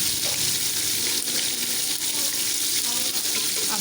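Chicken sizzles loudly in a pan with ginger garlic paste and green chilies, a close, dense frying hiss that runs unbroken with faint stirring.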